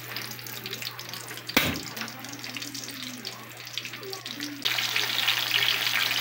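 Steady hiss and crackle of fish frying in hot oil nearby, with a sharp clatter partway through and the sizzling growing louder toward the end.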